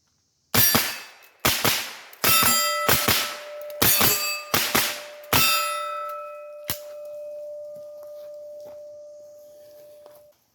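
Rapid carbine shots ring steel targets across a lake at an outdoor range, a string of about eight sharp cracks each followed by a metallic clang, the last target ringing on with a long fading tone.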